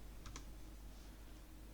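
Two quick keystrokes on a computer keyboard, crisp and close, followed by a quiet hum with no further typing.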